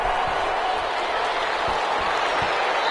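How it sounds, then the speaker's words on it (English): Steady, dense crowd noise and applause from a large stadium audience at an American football game between San Francisco and New Orleans, continuous and loud throughout. "How about some applause for the defense there?"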